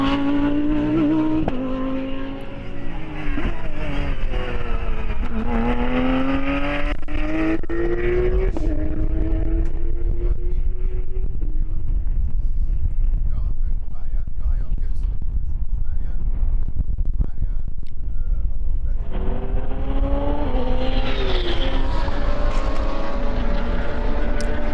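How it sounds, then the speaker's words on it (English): A Porsche 992 Cup race car drives on a circuit, its engine note rising and falling loud and close through gear changes, fading into a steady track roar before climbing again. "class leader, Hubert DARMETKO, car number 7, the Porsche 992 Cup"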